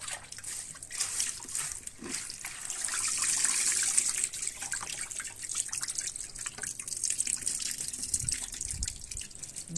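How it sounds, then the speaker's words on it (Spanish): Squash shoots, onion and cilantro rinsed under a running tap for a pot of squash-shoot soup, a steady close hiss of flowing water with irregular splashes and drips throughout, no talking. "Ya aquí estoy enjuagando mi guía, mis guías, la cebolla junto con el cilantro"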